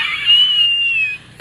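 A single loud, high-pitched scream held for about a second close by, tapering off, followed by a brief short vocal sound.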